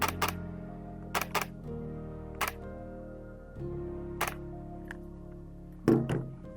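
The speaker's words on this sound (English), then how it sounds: "And now the shutter of the ZF." Nikon Z f camera shutter clicks, several sharp releases spaced a second or so apart over a steady low hum, fairly close and crisp.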